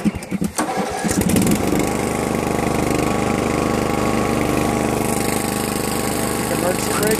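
A Snapper zero-turn lawn mower engine cranks, catches and settles into a steady, loud running drone close by, holding an even throttle after the start.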